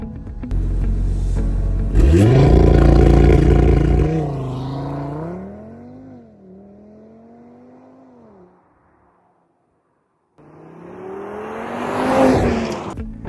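A stock sports car engine roars loudly, then revs rise and fall through gear changes before fading out; after a short silence another engine climbs in pitch nearby.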